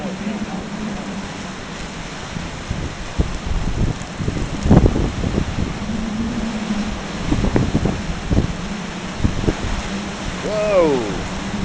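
Tropical storm wind at Ponce Inlet, Florida roars steadily with rain noise, swelling in several louder gusts and buffeting the microphone, with a few faint whistling tones near the end.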